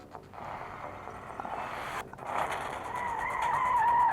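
A racing game on an ASUS ROG Phone 3 sends a car skidding with rising tire squeal and engine roar, fairly loud and building toward the end, with no voices.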